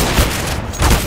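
Rapid gunfire from the game Counter-Strike: Global Offensive crackles loud and dense in a short continuous burst.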